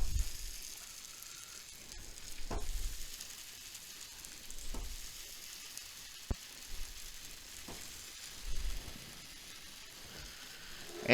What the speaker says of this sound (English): So we're going to lay the mush on the griddle.